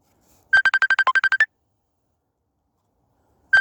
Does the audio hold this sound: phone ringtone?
yes